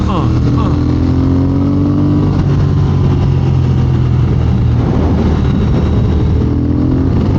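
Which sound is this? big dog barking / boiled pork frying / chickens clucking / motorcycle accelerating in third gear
motorcycle accelerating in third gear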